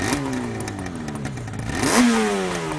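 A Yamaha RD500LC 500cc two-stroke V4 motorcycle revs up and back down twice, a raspy, metallic, aggressive engine note rising and falling close to the microphone.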